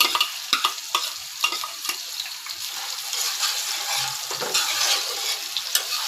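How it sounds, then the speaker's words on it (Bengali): Chopped onion frying in hot oil during home cooking of a prawn and taro dish: steady close sizzling with occasional stirring clatter, no talk. "তারপরে আমি দিয়ে দেবো পেঁয়াজ কুচি। এই যে পেঁয়াজ কুচিটা দিয়ে দিলাম।"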